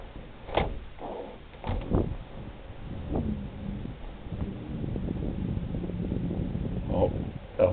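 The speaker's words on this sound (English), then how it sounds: "Let's see if you can hear the vacuum when I open the door." An apartment door swings open against negative air pressure, giving a few short knocks and clunks of the handle and door, then a low, breathy rush of air drawn through the gap that swells and lingers.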